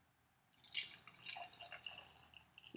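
Beer, an Abita Wrought Iron IPA, is poured from a bottle into a glass, giving a short run of faint splashing and bubbling liquid sounds after a quiet start.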